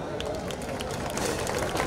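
An audience at a pageant event applauding to welcome a performer, a dense steady wash of clapping with crowd murmur, moderately loud and continuous for about two seconds.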